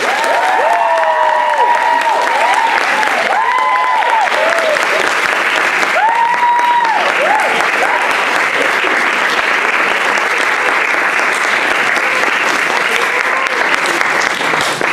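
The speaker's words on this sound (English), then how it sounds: "So I think we all owe Frank a massive round of applause as well." A room of course attendees at a certificate presentation gives a long, loud, sustained round of applause, with cheers and voices rising over the clapping early on.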